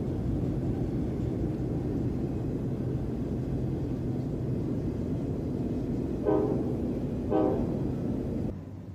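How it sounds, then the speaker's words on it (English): Southbound intermodal freight train on the Hudson River line at Fort Montgomery, heard from the Bear Mountain Bridge 185 feet above: a far, steady low rumble with two short horn blasts near the end. "an intermodal train headed south on the river line, 185 feet below"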